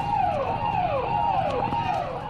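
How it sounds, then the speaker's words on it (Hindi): Police sirens wail in repeating rising-and-falling sweeps during a police flag march on a city street in Uttar Pradesh, loud and steady over a dense background rumble. "सायरन बज रहे हैं।"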